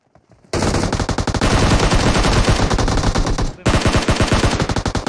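Loud, close automatic gunfire rattles in rapid, sustained bursts during a PUBG Mobile end-zone fight. A short pause breaks the firing midway before it resumes.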